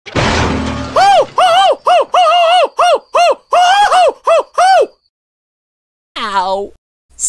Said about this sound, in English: That owl is so annoying!